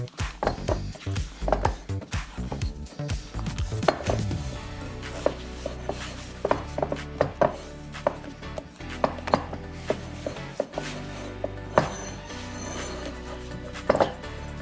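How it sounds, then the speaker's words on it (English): Pizza dough is worked around a bowl to clean and scrape its edges, giving repeated close thumps, slaps and scraping knocks in an irregular rhythm. "I'm using the dough to kind of clean the bowl and scrape the edges."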